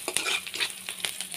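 Onions fry in oil in a kadai, a quiet crackling sizzle broken by quick scraping stirs of a spatula against the metal, close and fairly faint, with no talking.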